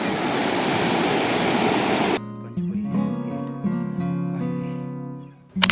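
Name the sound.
river water flowing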